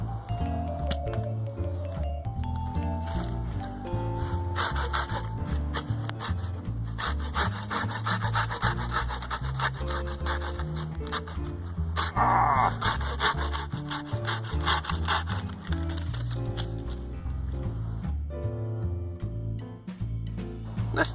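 A Silky Gomboy folding hand saw cuts through wood in steady back-and-forth strokes, a continuous rasping that keeps up for the whole stretch, close and loud.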